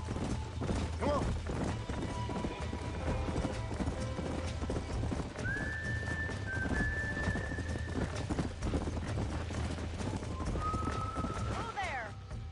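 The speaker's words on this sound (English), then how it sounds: "These are fine horses." Horses gallop in Red Dead Redemption, a steady rapid clip-clop of hooves throughout, with whinnies rising above the hoofbeats and voices talking over them.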